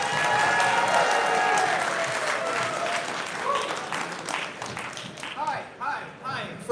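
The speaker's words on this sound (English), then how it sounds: "Nice round of applause for Skyler Higley!" A comedy show audience gives a comedian a round of applause, dense steady clapping with some cheers that gradually thins and fades out, with a voice speaking over the tail end.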